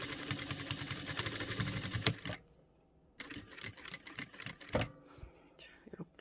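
A sewing machine stitching thick rib-knit cuff fabric runs in rapid bursts of needle clatter, stops briefly, then resumes in shorter runs, close by with faint handling noise.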